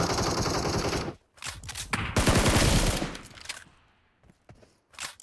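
Rapid bursts of automatic gunfire crackle loudly in short volleys separated by brief pauses, with a few scattered shots near the end, in the game PUBG Mobile.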